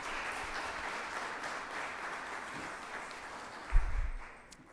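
Audience in a room at a school Teacher of the Year event applauding the administration and teachers: a steady, fairly faint wash of clapping that continues throughout, with a brief louder bump near the end.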